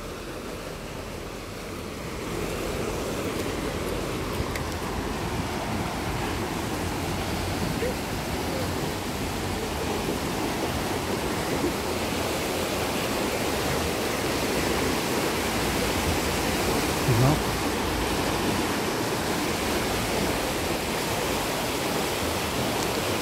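The fast-flowing Thiou river in Annecy rushes past in a steady, close roar of moving water that holds constant throughout.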